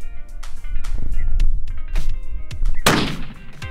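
Rifle shots fired at a target during barrel break-in of a Sawtooth Rifles rifle, outdoors; a series of sharp cracks spaced about half a second apart, with one especially loud, close blast near the end.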